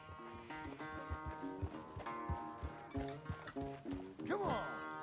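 Horse hooves clop in a quick, regular rhythm as a horse is ridden in Red Dead Redemption 2, close and clear, with a brief whinny near the end and some game voices mixed in.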